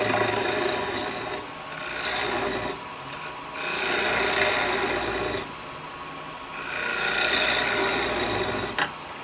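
A turning tool cuts a Meranti wood bowl on a lathe, giving a steady rasping, scraping hiss that swells and eases in several long passes. A small sharp click comes near the end, with no talking.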